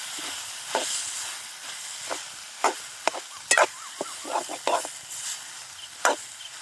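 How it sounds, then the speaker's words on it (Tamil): Mashed potato and cooked chicken are stirred together in a pan, with a steady soft sizzle broken by repeated scraping, tapping strokes of a spoon at an irregular rhythm, close by. "நான் இப்போ மசிச்சு வச்சுக்கிற உருளைக்கிழங்கையும் சேர்த்து அதோட ஒரு திரட்ட போகிறேன்."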